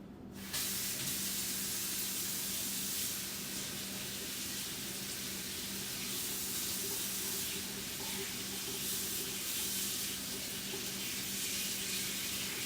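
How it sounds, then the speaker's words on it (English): Tap water runs steadily into a stainless steel sink while freshly dyed black knife scales for a Civivi Aquila are rinsed off, a continuous broadband hiss from start to finish with no talking. "So what I'm going to do is take these over the sink and wash them off."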